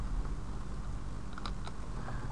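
Computer keyboard keys pressed in short bursts: several quick, fairly close clicks scattered over a steady low hum, with no talking.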